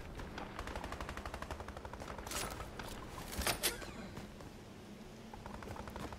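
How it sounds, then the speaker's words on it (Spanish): Gunfire in the video game Fortnite, rapid automatic bursts at a steady rhythm that fade out, then a few louder single shots and a dull thud, all heard without any talk over them. "Oigo disparos."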